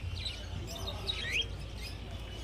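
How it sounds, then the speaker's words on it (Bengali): Lovebirds at the Garia bird market give a few faint, high chirps and tweets over a steady background hum of the market, with one slightly louder call in the middle. "এখানে যে সমস্ত লাভবার্ড দেখতে পাচ্ছেন"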